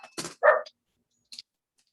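A dog gives a few short, sharp barks close by, the last one a brief yip after a pause, with no talking over them.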